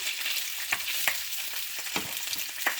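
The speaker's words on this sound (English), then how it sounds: "Just fry about a minute or two on each side." Sliced beef steak fries in a pan with a steady bright sizzle, crackling in a few sharp pops and spits, close and with no voices.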